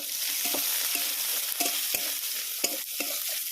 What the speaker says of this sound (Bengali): ওটাকে লাল লাল করে একটু ভেজে নেব।